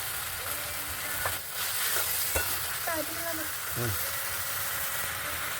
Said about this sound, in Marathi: तर आता याला तेल सुटत आलेलं आहे याच्यात आता मसाले याचे टाकून घ्यायचे आहेत